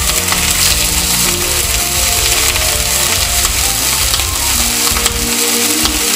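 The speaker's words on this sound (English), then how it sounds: "these pieces of meat here and sear them just slightly on the outside" Beef pieces sear in a hot pan for gyuu tataki, giving a loud, steady, crackling sizzle that runs unbroken throughout with no talking.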